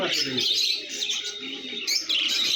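Small caged lovebirds twitter and chirp continuously at close range, with a few sharper squeaky calls and faint voices in the background.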